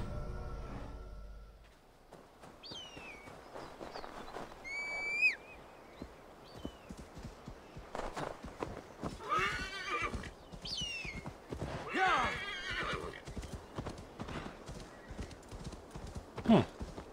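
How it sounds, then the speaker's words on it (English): A horse arrives in Assassin's Creed Valhalla, with several high whinnies and neighs spaced over the scene and a steady, rhythmic clip-clop of galloping hooves that grows busier, fairly quiet overall and with little talk. "I can apparently whistle for my horse from just about anywhere"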